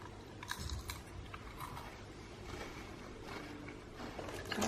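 Crispy sakura-flavored snack being chewed up close, with soft repeated crunches and bites, fairly quiet against light background noise.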